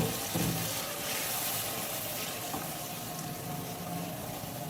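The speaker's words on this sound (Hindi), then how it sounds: "और थोड़ा सा पानी ऐड करूँगी।" Water is poured into a pan of frying chicken with ginger and garlic, a soft steady splashing and sizzling hiss that stays fairly quiet and continuous.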